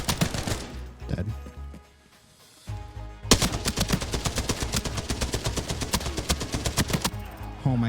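Rapid automatic gunfire in a shooter video game, loud dense bursts filling most of the clip after a brief lull, with a voice talking over parts of it.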